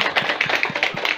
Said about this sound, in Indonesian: Ya, tepuk tangan dulu untuk